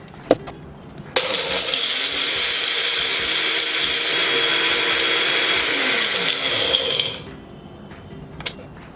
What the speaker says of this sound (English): So let's grind our masala chai mix.